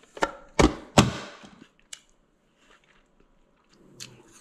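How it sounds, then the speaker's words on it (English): A knife chops a peeled, cored apple on a cutting board with three crisp, close cuts in quick succession, followed by a few fainter taps and scrapes in a quiet kitchen. "So now our apple is peeled and sliced and cored, and we're just gonna chop it up."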